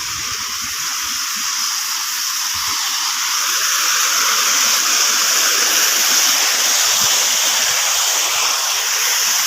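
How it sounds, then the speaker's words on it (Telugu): A small waterfall near an ancient Shiva temple in a valley gives off a loud, steady rushing hiss of falling water that runs unbroken throughout. No one speaks. "చిన్నపాటి వాటర్ ఫాల్స్ అంటారు దీన్ని"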